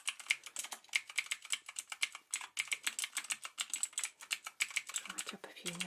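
Rapid, uneven clicking of keys on a computer keyboard in a dental office, close and crisp, in bursts with brief pauses, quiet overall, with a faint low thump near the end.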